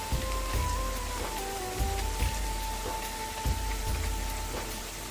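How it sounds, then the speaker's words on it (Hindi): Spinach pakoras deep-fry in hot oil with a dense, even crackling sizzle close by, broken by a few louder pops and bubbling bursts. "पकोड़े हमारे फ्राई हो रहे हैं।"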